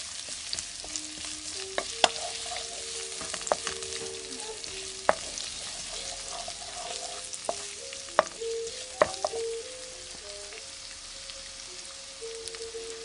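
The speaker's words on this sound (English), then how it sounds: "Put the onions in heat." Onions fry in a hot pan with a steady sizzle and occasional stirring scrapes, along with faint tonal sounds in the background and no voices.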